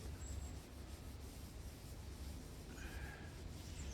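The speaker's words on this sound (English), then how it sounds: "You got to rub it in a little bit." Hand rubbing finish into a wooden cutting board made from firewood, a soft continuous scuffing and swishing close by, faint and even without any talk.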